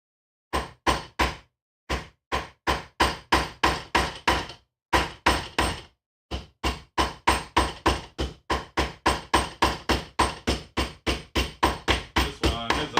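Rivets being hammered into a leather armor cuirass during assembly, with a long run of sharp, close, loud strikes in quick steady bursts and a couple of brief pauses.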